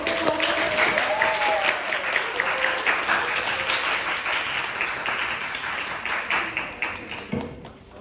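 Audience applause closing a research seminar session, a sustained round of clapping that slowly thins out and fades, with some voices under it.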